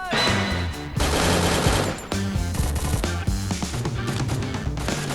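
Loud, rapid automatic gunfire rattles in dense bursts during a battle royale video game, nearly continuous with brief pauses between volleys.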